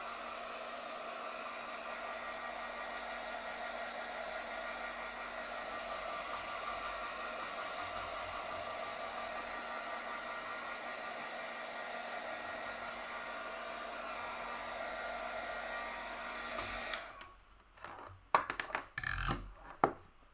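A hair dryer blows a steady, loud airy hiss over a chalk-painted craft piece for most of the stretch, then switches off, followed by a few soft handling knocks.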